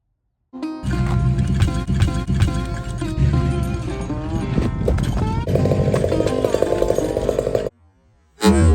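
A chainsaw roars loudly and steadily up close, its engine pitch shifting as it revs, then cuts out abruptly before a brief restart near the end.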